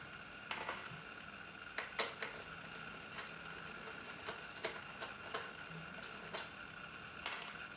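Small screws are taken out of the back of a MacBook Pro laptop and set down on a hard surface, giving sparse, light metallic clicks and ticks at irregular intervals in a quiet room.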